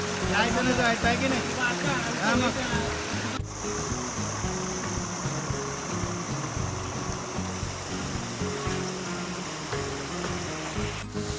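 Rain-fed water rushes steadily at a bathing spot in Konkan, a loud continuous wash of flowing water with voices talking over it throughout.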